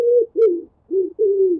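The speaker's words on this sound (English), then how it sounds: "Pigeon." A pigeon coos nearby in four low, soft, rounded notes with brief pauses between them.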